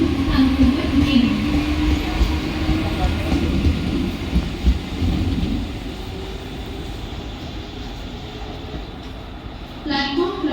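A fast Mumbai local train rumbles loudly and continuously at Vikhroli station, a broad steady roar of wheels and carriages, with a voice speaking over it.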